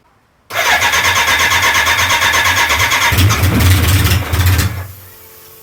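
A 1983 BMW K100 motorcycle engine cranks and catches, running loudly and steadily close by, rising briefly before settling to a lower idle near the end.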